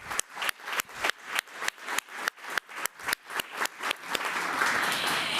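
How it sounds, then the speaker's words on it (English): A board meeting audience gives a round of applause, starting as slow, sharp, evenly spaced claps close by, then breaking into a denser wash of clapping near the end. "let's please give them another round of applause"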